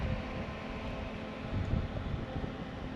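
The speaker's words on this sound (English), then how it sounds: "So that noise you can hear, because the car is mid-engine, that's cooling fans." Cooling fans on a mid-engine Alpine A110 whir in a steady, broadband rush, a constant close drone with a low rumble and no talking.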